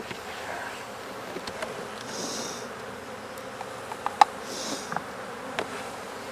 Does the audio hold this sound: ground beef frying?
no